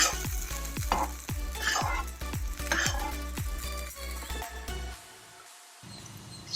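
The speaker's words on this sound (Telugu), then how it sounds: "పచ్చిమిర్చి వేయించుకుంటే బాగుంటుంది" Steady sizzle of green chilies frying in a little oil in a kadai, with repeated scraping stirs against the pan, a rhythmic series of clinks, then the frying fades quieter near the end.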